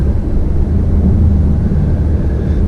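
A 2019 Subaru Ascent with a 2.4 liter Boxer four engine accelerating, heard from inside the cabin as a loud, steady low engine drone and road rumble, with no talking.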